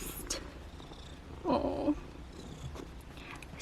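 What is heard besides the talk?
stressed Ragdoll cat purring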